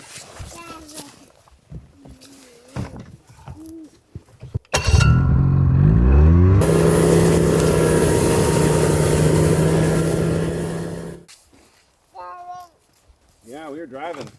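Snowmobile engine pulling a sled carrying children after a heavy snowstorm: a loud rising rev and steady drone for several seconds, with people talking before and after.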